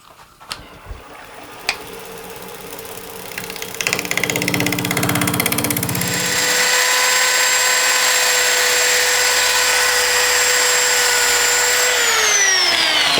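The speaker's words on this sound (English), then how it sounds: "I'm using 80 grit right now on my little right angle drill here" A small right-angle drill with an 80-grit sanding pad whines up to a steady high-pitched drone as it sands a coconut shell, with scraping grit noise, then the motor pitch drops at the end.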